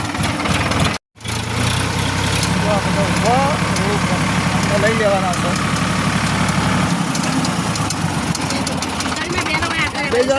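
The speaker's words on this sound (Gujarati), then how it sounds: "ટ્રેક્ટર લઈને જઈએ" A tractor engine idles with a steady low rumble and knocking throughout, briefly cutting out near the start, while people talk over it.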